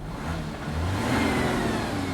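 An Audi Q7 engine runs steadily at idle, giving a continuous mid-range hum and whir with a slight rise partway through. No one speaks.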